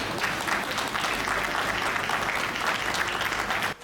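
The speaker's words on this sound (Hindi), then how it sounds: "मैं चाहता हूं उनके सम्मान में जोरदार तालियां हो।" Hearty applause from an audience at a comedic poetry gathering, dense steady clapping at full strength that cuts off abruptly near the end.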